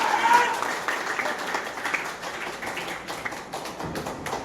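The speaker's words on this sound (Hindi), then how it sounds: "जोरदार ताली के लिए" Loud, sustained applause from the audience at a motivational speech gathering: dense clapping that peaks at the start and then carries on steadily to the end.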